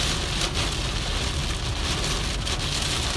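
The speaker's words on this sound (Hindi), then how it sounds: "कहीं बारिश जमकर बरसी" Steady, heavy rain pours down in a dense, continuous hiss, with no voices or other sounds cutting through.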